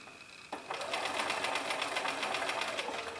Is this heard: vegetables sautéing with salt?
no